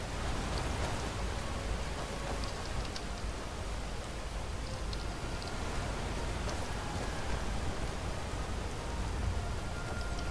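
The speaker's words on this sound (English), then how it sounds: "Hopefully the rain stops soon." Steady rain falls without a break in a quiet town setting, a dense even hiss with scattered drops tapping close by and no voices.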